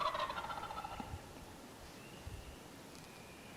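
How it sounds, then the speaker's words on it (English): Wild turkey gobbling from its roost on a farm in spring, a single distant rattling gobble at the start, then quiet open air. "We got a bird gobbling here."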